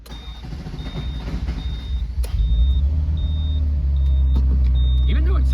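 A Ferrari Mondial t engine runs after a dual-mass flywheel regrease, its low rumble building and settling into a steady, heavy drone, while a faint high beep repeats at regular intervals in the background.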